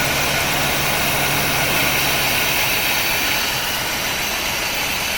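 A 1975 Corvette C3 convertible engine, cold and smoking after 34 years of neglect, runs at a steady loud idle with a dense rumbling drone and no breaks.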